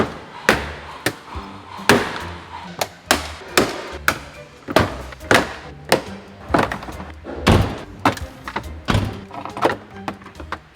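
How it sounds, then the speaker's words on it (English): Heavy hammer blows pounding on a car body to break it apart and free the wiring harness, a series of loud sharp metallic thunks at an irregular pace, close and alone with no speech. "I should just get a hammer in here."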